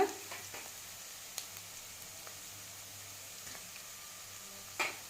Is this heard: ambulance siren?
no